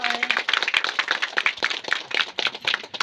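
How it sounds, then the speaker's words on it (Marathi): An audience at a village gathering claps steadily in a dense, continuous round of applause, many hands close and lively for several seconds with no talk. "जोरदार टाळ्या वाजवून स्वागत करायचं"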